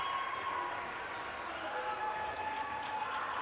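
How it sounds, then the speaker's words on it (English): A volleyball crowd at an NCAA Division III championship quarterfinal roars and claps in a steady, distant wash of noise that fills the hall without clear peaks. "the crowd is at the noise level it was after the first set when the Knights were rolling"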